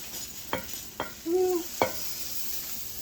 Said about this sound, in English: Just flipped it so I could get a good sear on the other side.